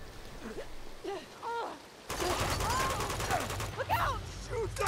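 Distant gunfire in the action game Uncharted 2 with a dense crackling volley breaking out midway, faint and rough under scattered shouting voices.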